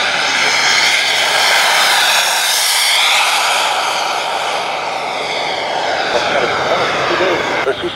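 Radio-controlled model BAE Hawk jet flying at an RC jet meet in Maubeuge, a loud steady turbine whine and rushing roar sustained throughout, close and continuous, with commentary over a public address running beneath it.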